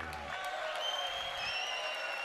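Crowd at a fight night in Dubai applauds and cheers between rounds, a steady roar of clapping under a ringing tone, with a voice briefly heard.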